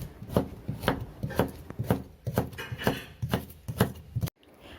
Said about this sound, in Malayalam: അപ്പോൾ നമ്മളിത് വട്ടത്തിലാണ് അരിഞ്ഞെടുക്കുന്നത്.